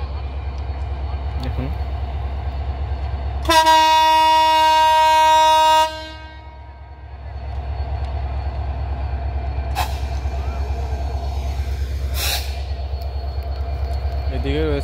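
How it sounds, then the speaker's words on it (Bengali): At Abdulpur junction in Bangladesh, a locomotive idles with a loud, deep diesel rumble while its horn blasts once for about two seconds, with someone speaking over the engine and brief hissing air-brake bursts. "নীলসাগর এক্সপ্রেসের 6603 ইঞ্জিনটি খুলে ট্রেনটিকে উদ্ধার করা হচ্ছে"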